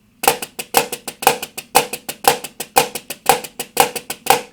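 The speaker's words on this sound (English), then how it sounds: "If I'm playing flam accent at a moderate to slow pace" Snare drum flam accents at a moderate, even pace, each accent preceded by a quick grace-note tap, crisp and close, with nothing else heard.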